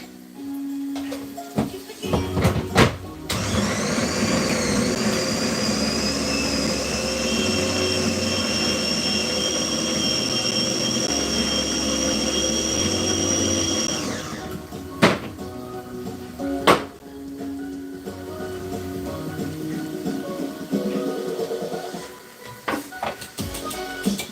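A blender grinds pili pili peppers for tomato sauce in one long, steady, loud whir of about ten seconds, preceded and followed by clunks and handling knocks.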